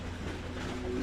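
A moving train in the 2002 Ratchet and Clank video game: a steady, loud rumble with a low hum running under it and no break.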